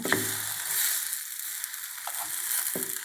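Eggs sizzle steadily in a hot frying pan as each one is flipped over with a spatula, giving a continuous hiss with a few soft scraping taps on top.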